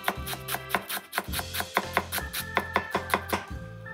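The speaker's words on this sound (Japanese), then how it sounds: "まずみょうが切っていこうかな" A knife chops myoga ginger finely on a cutting board, giving a steady run of crisp, close, evenly spaced blade taps with short pauses between bursts.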